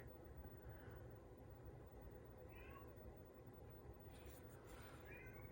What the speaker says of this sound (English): sorry if you can hear the cat children freaking out outside my door.